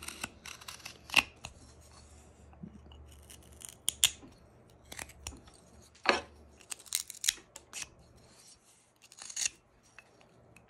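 A knife whittles the hard corners off a bandsawn butternut wood blank for a carved pilgrim's hat. Sharp, close scraping cuts come in scattered bursts, with quiet pauses between strokes and no talking.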